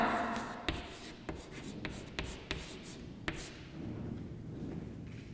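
Chalk writing on a classroom board, a series of sharp taps and scratchy strokes, close and moderately loud, with soft rubbing between the marks and no talk.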